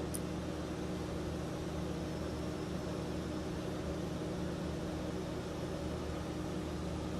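A Mofo RC Nano Beast 2.0 brushless motor running in an SCX24 crawler, a steady continuous whir with a low hum underneath, constant in level and heard alone throughout.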